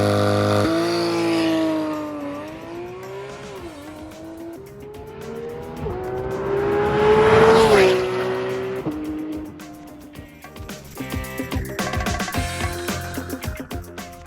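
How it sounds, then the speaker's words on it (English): A Porsche GT3 RS sports car is driven around the block, its loud engine revving up and down through the gears with a tire squeal near the middle, then rapid shifting and sharp revs toward the end, with no talking. "get the GT3RS out, and give it a quick romp around the block"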